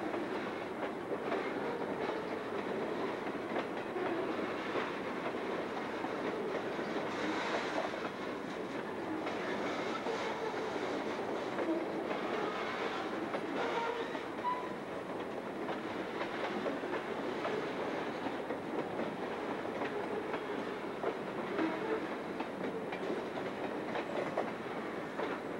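Freight train hauling a 1,240-ton load of rail, with about 3,500 tons total including cars and locomotives, rolling past at a distance with a continuous rumble and faint clickety-clack of wheels over rail joints.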